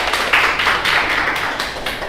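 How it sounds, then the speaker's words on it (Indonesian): A classroom of students applauding, a dense burst of clapping from many hands that stays steady and close for about two seconds. "Tepuk tangan buat kita semua."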